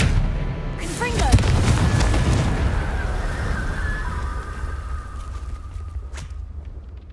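A Confringo blasting spell explodes in Hogwarts Legacy with a loud booming impact and rumbling crackle after a brief shouted voice, then a thin ringing tone lingers as the noise fades, with a final sharp crack near the end.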